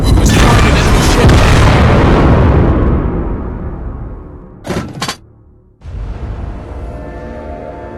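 Naval gunfire and explosions boom in World of Warships Blitz: a heavy, loud blast rumbles and fades over several seconds, then a short sharp burst and a quieter tail follow.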